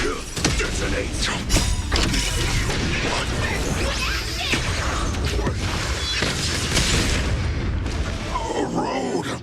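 A loud, dense explosive blast set off during a video game duel fills the whole clip, with booming crashes, whooshes and debris-like impacts layered over a music bed and game voices.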